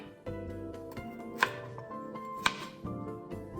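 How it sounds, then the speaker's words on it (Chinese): A knife chops a bitter melon into thick rings on a cutting board, with a few sharp, distinct chops landing at an unhurried pace over soft kitchen music. "苦瓜1条约500克，清洗干净后，切成大约2至3厘米厚的圈"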